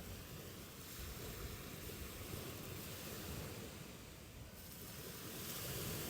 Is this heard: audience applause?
no